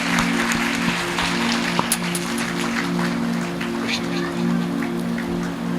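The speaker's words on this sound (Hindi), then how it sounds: "तालियां तो बजा सकते हैं आप लोग इस बच्चे को।" Audience applause at a Hindu devotional jagran, a dense, steady patter of many hands clapping at moderate loudness over a low sustained hum, continuing evenly for several seconds.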